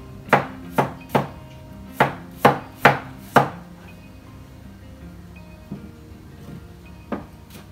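Seven sharp knife chops strike a cutting board in a quick, uneven rhythm as shredded carrot is cut, close and crisp, followed by quieter scattered taps.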